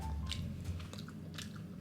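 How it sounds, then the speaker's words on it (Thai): Close chewing of vegetables during a meal of salted salmon: brief crunching bites and soft wet chewing over a steady low background hum. "กินผักซะหน่อย"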